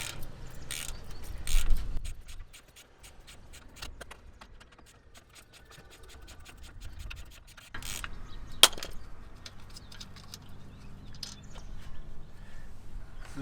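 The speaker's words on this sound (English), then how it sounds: "hold the slider in place and loose 13mm bolt" A 13mm brake caliper slider bolt on a Range Rover L405 rear brake is loosened with a wrench, producing rapid ratcheting clicks in bursts, then a metallic clank and further ratcheting.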